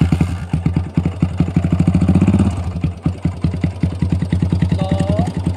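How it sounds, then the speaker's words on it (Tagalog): Barako 175 motorcycle, enlarged to 291cc and loaded with accessories, with its engine running: a loud, close, steady thumping idle of rapid, even pulses. "subukan natin siyang paandarin kung aandar ba siya sa kanyang load"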